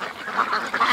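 Geese lead a flock of ducks in, giving a burst of overlapping honks and quacks, fairly loud and close, with no talking.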